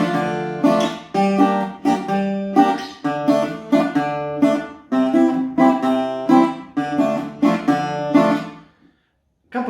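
Tsifteteli rhythm at normal speed, played as accompaniment on a pitched string instrument: bright chord strikes in a quicker, lilting repeating pattern, close and loud, ending in a brief silence.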